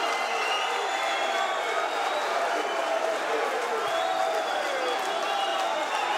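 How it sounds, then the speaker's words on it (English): A kickboxing arena crowd at an Enfusion event erupts after a knockout by Ismael Lazaar, a sustained, dense roar of cheering and clapping that stays loud throughout. "the crowd go wild here for Ismael Lazaar"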